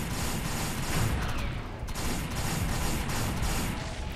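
Continuous dense gunfire from a weapon in the video game Defiance keeps up a steady, loud, rapid crackle across the whole stretch with no pauses or talk.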